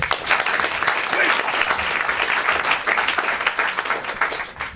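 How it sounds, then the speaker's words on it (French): An audience at the 24-hour improv festival in Paris bursts into dense, continuous applause that stays loud and even for several seconds, with no break in the clapping. "Vous pouvez l'applaudir"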